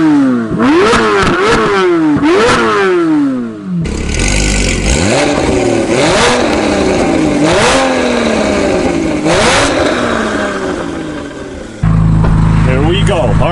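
Corvette C8 Z06 or Porsche GT4 engine revving hard, loud repeated climbing wails with sharp drops between shifts, first in a few quick rev sweeps, then a longer run of upshifts, ending on a steady low rumble.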